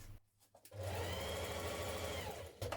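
A sewing machine stitching a pocket seam, starting with a few short bursts before running in one steady, close, continuous whir for about two seconds, then stopping.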